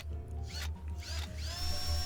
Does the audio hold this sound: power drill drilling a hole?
yes